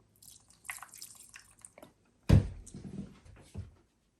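A TDS meter is rinsed under water in a quiet room: soft trickles and drips, then a louder splash midway followed by scattered splashes.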